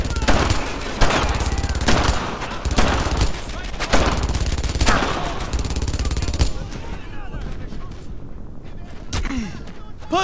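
Heavy bursts of automatic gunfire in the World War II shooter Brothers in Arms: Earned in Blood, loud repeated volleys that thin toward the end, with soldiers shouting through the firefight.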